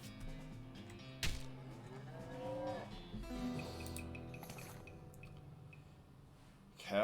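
A cow lows in the video game West of Loathing, several drawn-out moos and grunts in a loose rhythm, mixed with squishy, wet combat effects and sharp hits over steady game background.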